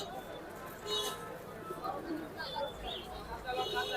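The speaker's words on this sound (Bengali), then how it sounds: "খুব সুন্দর আর অ্যাক্টিভ আছে কবুতরগুলা" Pigeons coo repeatedly at a busy pigeon market, soft throaty calls close by, mixed with bird chirps and a background murmur of people talking.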